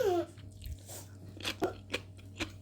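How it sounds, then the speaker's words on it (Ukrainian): Crisp crunching of petal-cut fermented cabbage, made without vinegar, being chewed up close, a few distinct crunches in quick succession over a faint background hum. "Як хрумтить ця капусточка."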